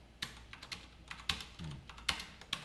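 Keys pressed on a computer keyboard during a coding lesson, several separate clicks and clacks at uneven intervals, close and fairly faint, with no talk.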